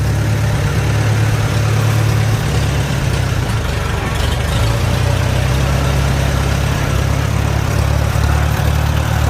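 A Farmall tractor engine runs steadily in second gear at about a third of full throttle, a loud, close, continuous low rumble with even vibration and no break.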